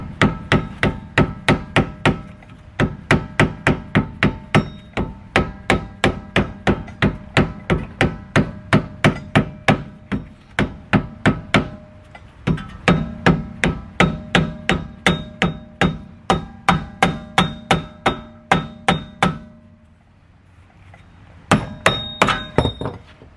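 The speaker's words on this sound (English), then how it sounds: "So what we're going to do is tap it from the front and then try to get it loosened." Steady run of sharp metallic hammer blows striking a rusted rear wheel hub on a 2002–2006 Nissan Altima, dozens of loud close taps in rapid rhythm with brief pauses, no talking.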